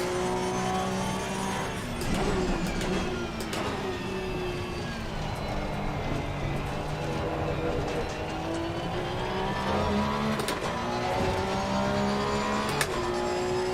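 A modern Porsche Cup race car engine in a racing video game roars continuously, its pitch climbing and dropping through gear changes, with sharp shifts and tire squeals as it corners at speed.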